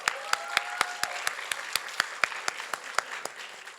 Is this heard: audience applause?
yes